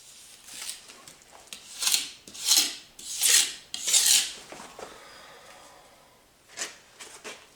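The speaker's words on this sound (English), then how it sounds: "You just get some on your trowel here, and I'm just going to patch the crack up." A trowel rasps across stucco, spreading mortar to patch a crack: four close, gritty scraping strokes in a steady rhythm, a pause, then two lighter scrapes.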